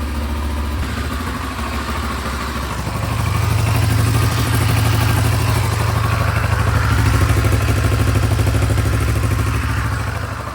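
A Kawasaki Versys 650 parallel-twin motorcycle engine runs steadily after an oil change, a close, continuous idle hum with a mechanical clatter, rising slightly in level after a few seconds.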